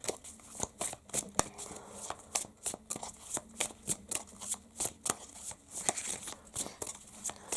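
Tarot cards shuffled by hand before an affirmation card is drawn, a steady run of close, crisp riffling flicks and soft slaps repeating in quick, even bursts.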